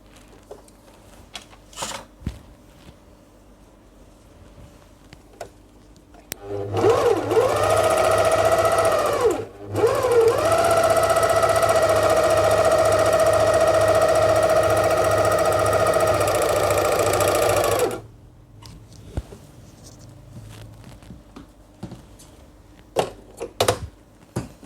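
An 854 sewing machine stitches continuously with a fast, even mechanical whir and rattle, starting up, pausing briefly, then running steadily for about ten seconds before stopping, close and loud against a quiet room.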